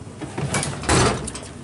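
A drawer in a machinist's tool box slides open and shut once, a short close metallic scrape and rumble with no talking.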